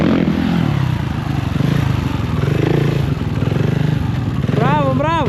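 A motorcycle roars continuously up close as it rides in tight circles on a wheelie during training, engine revving and wavering with the turns, then rising and falling sharply near the end.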